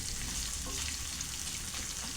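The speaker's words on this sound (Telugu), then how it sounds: "పోపు అనేది ఎర్రగా వేగాలి" A tempering of spices and curry leaves for pongal fries on low heat, giving a continuous soft, even sizzle and crackle with no talking.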